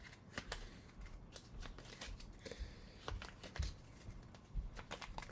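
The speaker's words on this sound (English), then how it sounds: "Shuffling up." Cards are shuffled close up for an Aeon's End board game, a faint series of crisp riffling snaps and clicks in irregular bursts over a few seconds, with no talk.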